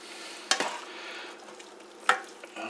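A utensil scrapes and tosses lemon pepper shrimp with long grain and wild rice in a hot pan, with two distinct stirring strokes over a soft, continuous sizzle.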